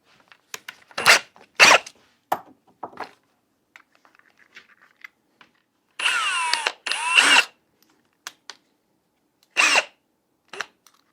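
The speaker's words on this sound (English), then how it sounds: "I have to countersink those a little bit more." A power drill countersinks holes in the frame of a rolling table for a CNC machine, firing in short, loud whirring bursts separated by pauses with small handling clatter, plus one longer double burst midway.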